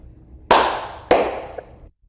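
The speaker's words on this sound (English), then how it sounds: "and 2 claps to close." Two loud, sharp hand claps, about half a second apart, close a Hawaiian chant. Each clap rings briefly in the room before the clip ends in silence.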